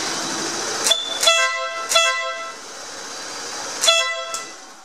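A loud air horn fitted to a scooter gives several short, close blasts in quick succession with brief pauses between them, and no talking.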